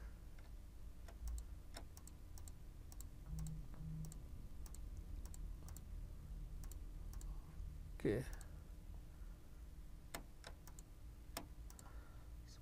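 Sharp mouse clicks come while selecting a table in Canva on a computer, a scattered series of light ticks spread across the stretch under a quiet background hum.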